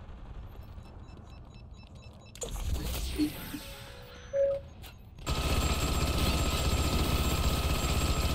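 A helicopter in the video game Saints Row 3 Remastered starts up amid brief mechanical clanks and bursts, then settles into a loud, continuous rotor roar for the last few seconds.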